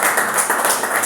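An audience at a talk bursts into applause to welcome a speaker, dense, continuous clapping from many hands filling the room at a steady loud level.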